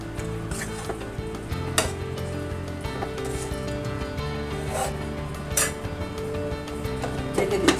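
Spices being stirred with tengra fish in a frying pan over the stove: soft sizzling under repeated scraping and clinking strokes of the spoon against the pan, fairly close and steady.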